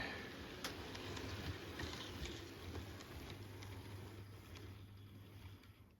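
Hornby A3 model locomotive rolling steadily along its track, a soft continuous low rumble and whir with faint clicks, quiet and close, with no voices.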